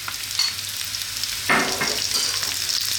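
Potatoes fry in a pan for a vegan coconut-milk potato curry, and chopped onion is tipped in. A low steady sizzle flares louder as the onion hits the hot oil, with a few scraping stirs close by.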